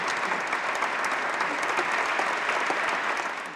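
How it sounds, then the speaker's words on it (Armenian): Sustained audience applause fills the hall at the Aurora prize ceremony, dense and even clapping from a large crowd with no pause. "Չդադարող ծափերի տակ"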